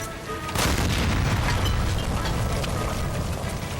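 A gas line explodes after being shot in L.A. Noire, a sudden loud boom that swells into a sustained roaring rumble lasting several seconds.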